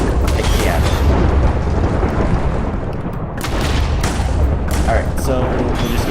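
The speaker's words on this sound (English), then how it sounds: "Now he'll go to the center of the island and explode." A chaos dragon blows up in the modded Minecraft world of Sky Factory, heavy rumbling booms and blasts rolling on continuously with repeated bursts layered over a dense roar.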